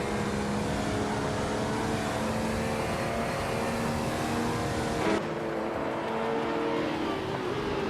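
Race cars in a video game race, engines roaring loud and continuous as they run nose to tail and overtake, with a sharp burst about two-thirds through after which the sound turns duller.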